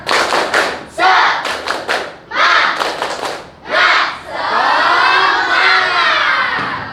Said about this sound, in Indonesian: Bapak akan pimpin untuk tepuk semangat.